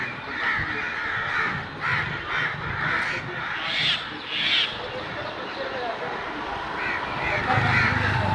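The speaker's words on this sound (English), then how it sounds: "These all are crows." A flock of crows caws repeatedly overhead, loud harsh calls overlapping in irregular bursts against outdoor noise.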